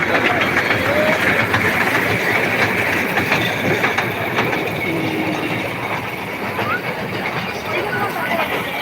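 A fairground ride train at a trade fair rumbles steadily with a rhythmic clatter amid a noisy crowd, people talking throughout.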